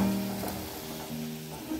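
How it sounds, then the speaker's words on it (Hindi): Manchurian vegetable balls deep-frying until crisp in hot oil, a soft steady bubbling sizzle at moderate level for a couple of seconds, with a faint clink at the end. "मंचूरियन जो है ना वो बिल्कुल मतलब करारे करारे फ्राई हो गए"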